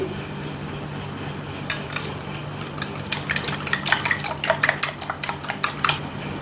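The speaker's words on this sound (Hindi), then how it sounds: "अब हम अंडे को अच्छे से फेंट लेंगे" Eggs whisked with salt, chili and spices in a bowl, a run of quick clicking, tapping strokes that starts sparse and grows steadier and louder midway, close by with no talking.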